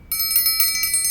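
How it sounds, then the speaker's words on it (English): A percussion triangle struck repeatedly like an old-fashioned dinner bell, giving a bright sustained metallic ring with steady rapid strikes, close and clear with no talking. "It is a triangle. Makes a nice light sound."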